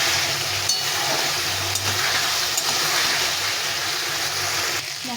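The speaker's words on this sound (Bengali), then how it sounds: "মশলাটাকে ভালো করে কষিয়ে নিতে হবে।" Spice paste frying in a pan for a Bengali tengra fish curry with taro and potato gives a steady, close hiss and sizzle with faint stirring, no voices.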